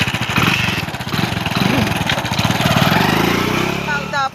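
A motorcycle engine running close by with a rough, pulsing idle that revs up and settles, mixed under lively talking voices and ending in a brief higher whine.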